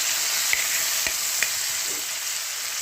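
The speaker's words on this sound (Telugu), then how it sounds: "పసుపు వేసేసుకుని ఇలా ఫ్రై చేసేసేయండి." Tomatoes frying in oil with turmeric for an instant tomato pickle, a loud steady hiss of sizzling oil with a few faint clicks of a spoon, close up and continuous, no voices.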